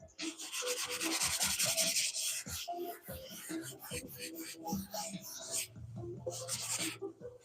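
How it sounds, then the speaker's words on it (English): Sandpaper rubbed back and forth over a painted box in a garage, a steady close scratchy hiss in repeated strokes that eases into shorter passes, with faint talk underneath. "You can literally feel what grit of sandpaper you're using as you go across this last time."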